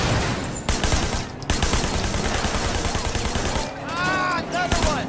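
Rapid bursts of gunfire ring out in the Sleeping Dogs video game as shots are fired at a car's tires during a chase, dense and loud over a busy game mix, with a voice talking over it.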